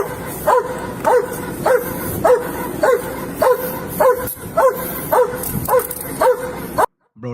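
A dog barks in a steady series of about a dozen loud, evenly spaced barks during a police detention, close by and dominating the scene, with voices faintly underneath before it cuts off.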